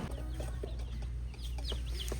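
Chickens cluck in short, scattered calls at a farm or poultry sale, with a steady low hum underneath and a few brief bird chirps mixed in.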